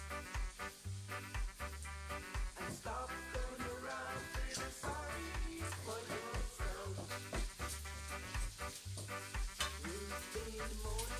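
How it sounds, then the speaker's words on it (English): Grated Swiss rösti potatoes fry in a hot pan with a continuous close crackling sizzle, broken by occasional scrapes and clatters of a utensil, with no speech. "we're gonna let it fry for about 6 to 8 minutes on one side"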